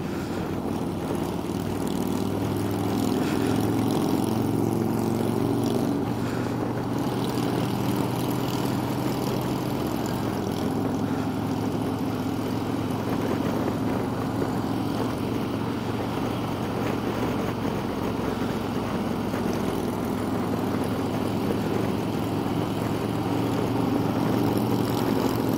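Harley-Davidson motorcycles on a chapter group ride in the West Virginia Panhandle give a steady, loud engine drone with low rumble and wind noise, unbroken throughout, without talk.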